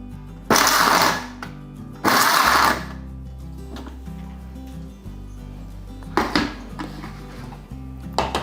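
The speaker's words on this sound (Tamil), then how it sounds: "இந்த மிக்சியில் போட்டு பல்ஸில் போட்டோன்னு வைங்களேன், உள்ளுக்குள்ளே இருக்க கொட்டையும் இந்த சதை பகுதியும் தனியாக வந்துடும்." A kitchen mixer grinder pulses gooseberries for chutney, with short loud whirring bursts over a steady low motor hum. Two clear pulses come early, then quieter rattling bursts follow near the end.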